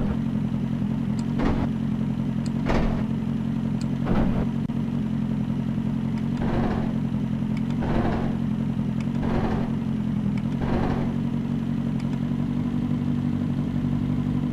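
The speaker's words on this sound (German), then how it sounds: "Ohren auf und ich halte mal die Klappe wegen der neuen Schaltgeräusche" A Capri racing in Project CARS holds a steady engine drone, broken by about seven sharp clunks of gear shifts spaced a second or two apart, with no talking.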